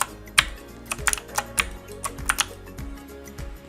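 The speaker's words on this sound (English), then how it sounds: "Control W, click, and then Control W, click" Close, irregular clicks from a computer keyboard shortcut, Control W, and mouse clicks while working in ZBrush, coming in quick uneven bursts with brief pauses between them.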